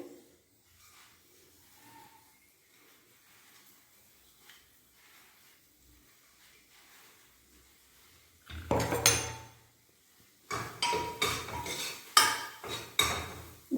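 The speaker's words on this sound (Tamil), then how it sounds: "எண்ணெயை விட்டுட்டு இந்த அரைச்ச விழுதை போட்டுட்டு" Ground paste goes into hot oil in a pan and is stirred with metal utensils, heard after a long quiet stretch as bursts of clattering, scraping and sizzle near the end, with no talking.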